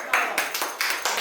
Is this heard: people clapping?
yes